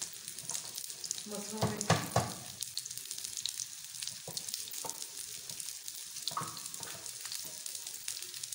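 Onions frying toward golden brown in a pan for a masoor lentil dish, a steady close sizzle with occasional stirring scrapes and brief soft speech in the middle.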